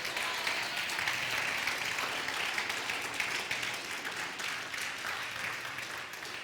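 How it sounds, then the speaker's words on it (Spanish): A church congregation gives a round of applause to God, a steady, full roll of many hands clapping that holds evenly throughout with no speech over it. "Dale un aplauso a Dios por eso"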